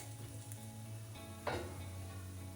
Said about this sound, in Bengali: ভালো একটা ব্যাচ ভাজা হয়ে গিয়েছে এবার ধীরে ধীরে চলুন বাকিগুলোকেও ভেজে নিই